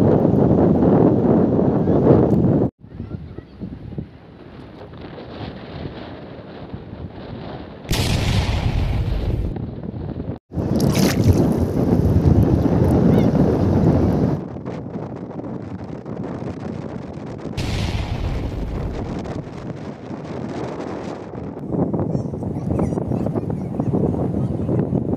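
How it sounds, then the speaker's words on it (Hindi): Booms from live missile test firing, heard outdoors as repeated loud, broad blasts and rumbling bursts separated by brief gaps, with wind buffeting the microphone throughout. "अभी फिलहाल टेस्टिंग कर रहे हैं मिसाइल जो है टेस्टिंग कर रहे हैं, बहुत जोर की आवाज़ आ रहा है"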